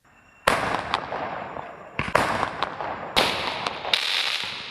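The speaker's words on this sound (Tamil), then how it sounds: "சிவகாசியில் பொதுமக்கள் மற்றும் கிரிக்கெட் ரசிகர்கள் வான வேடிக்கை நிகழ்ச்சியோடு பட்டாசு வெடித்து தங்கள் மகிழ்ச்சியை வெளிப்படுத்தினர்." Fireworks and firecrackers burst in a public celebration of an Indian cricket win in Sivakasi, with three loud sharp blasts each trailing into crackling rattles, heard from fairly close and with no talk.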